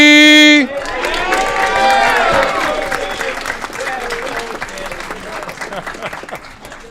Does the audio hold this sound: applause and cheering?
yes